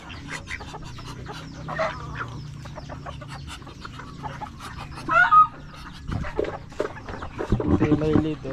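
Chickens cluck and murmur close by in a steady scatter of short calls, with a few louder squawks toward the end, under occasional talk.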